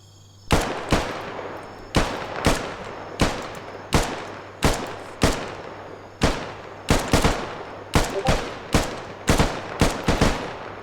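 Rapid gunfire from a military simulation training exercise, a long run of loud, sharp shots fired in quick pairs and singles at a steady pace, each crack ringing briefly before the next.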